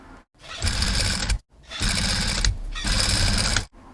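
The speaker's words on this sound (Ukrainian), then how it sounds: "Так само окантовкою закриваємо зрізи і настрочуємо з лицевої сторони." A sewing machine stitches binding over the seam edges of a mesh tank top, three loud close bursts of rapid mechanical whirring broken by brief stops.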